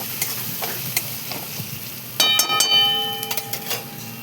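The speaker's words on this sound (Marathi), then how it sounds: "हळदीच्या नंतर पुन्हा आपण एकदा असं मस्त मिक्स करून घेऊया सर्व मसाला" A spoon works turmeric and spice masala through rice in a pan, producing soft scraping and a light sizzle, then a sharper metallic ring and several clinks against the pan near the end.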